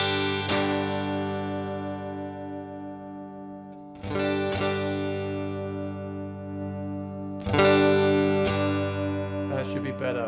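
An electric guitar played with a clean tone through a Line 6 Helix, sustained ringing chords struck a few times and left to decay, loud and alone.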